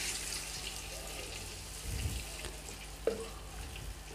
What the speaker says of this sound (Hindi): अब हम इसके अंदर डाल देंगे सूप